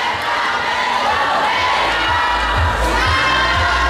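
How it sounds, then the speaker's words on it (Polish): A large crowd at a student faculty-battle festival in Olsztyn claps and cheers continuously, a dense wash of applause and shouting voices with low thumps running throughout. "wielkie brawa"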